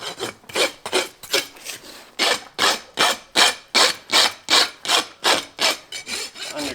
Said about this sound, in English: Now we take our rasp,